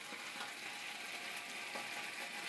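Gravy of pan drippings and about a cup of water bubbling in a hot pan on a stovetop, a steady close sizzling hiss with faint crackles throughout and no talking.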